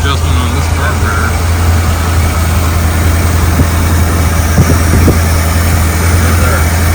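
A cold 302 engine in a 1964 Ford Galaxie runs steadily with a constant low rumble and drone, loud and close, with faint clicks and knocks over the top.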